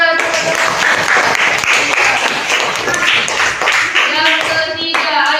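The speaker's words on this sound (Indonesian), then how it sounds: "Tepuk tangan." Sustained applause from a group in a classroom or training session, many hands clapping fairly close for several seconds, with a voice briefly audible beneath.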